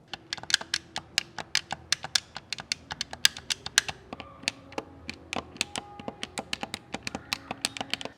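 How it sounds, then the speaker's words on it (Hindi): Xbox and Logitech controller face buttons being pressed one after another, a quick run of sharp, close plastic clicks with no talking. "Logitech के कंपैरिजन में Xbox के जो स्विचेस हैं वो थोड़े सॉफ्ट है। यहाँ पे आप इनकी आवाज़ सुन सकते हैं।"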